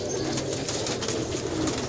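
Indian Rampuri pigeons, a flock all alike in one colour, coo together in a steady, dense murmur that runs unbroken from start to finish with no talk.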